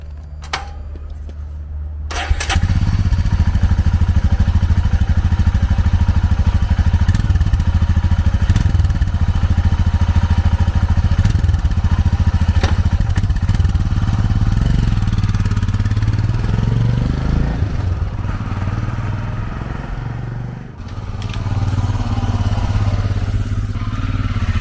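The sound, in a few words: Himalayan 411 motorcycle engine with original exhaust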